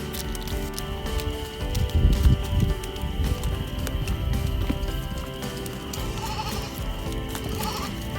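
Dairy goats bleat repeatedly in a barn at evening milking time, loud nearby calls over shuffling hooves and movement, with no speech.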